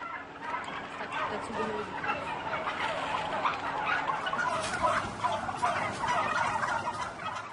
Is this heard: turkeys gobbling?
yes